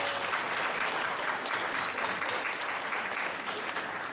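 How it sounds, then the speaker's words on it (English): An audience applauds the musicians and behind-the-scenes support helpers at a fun fashion show based on the book Dick and Jane, with steady, dense clapping that holds at an even level for the whole stretch. "Let's give them a round of applause"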